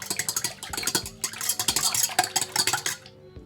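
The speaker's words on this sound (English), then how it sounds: "I'm going to grab a fork and just break the yolks up" A fork rapidly whisks and breaks up egg yolks in a container, producing quick, close, rhythmic clinking and scraping taps that stop abruptly at the end.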